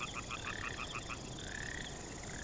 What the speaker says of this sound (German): Siehst du die Frösche?